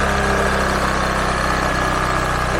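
Honda Vario 110 scooter engine running loud and close, a steady droning idle with faint uneven surging as the throttle is held, no voices over it.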